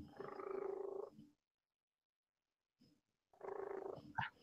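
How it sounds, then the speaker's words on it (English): A cat purrs close by in two steady, rumbling bursts separated by a pause of silence, with a brief faint sound between them and a short sharper noise at the end. "I hear a cat purring"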